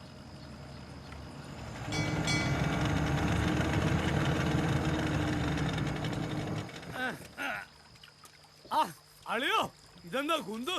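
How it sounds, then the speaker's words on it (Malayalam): Boat engine on the water drawing near, a steady droning rumble that swells in the middle and then fades, followed by people talking loudly and close. "ബോട്ട് വരുന്നുണ്ട്, നിങ്ങൾ പൊക്കോ."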